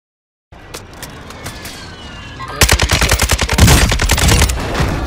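Gunfire in Warzone 2.0 during a quads match: rapid automatic bursts start midway and grow loud and dense, preceded by scattered, more distant shots over game ambience.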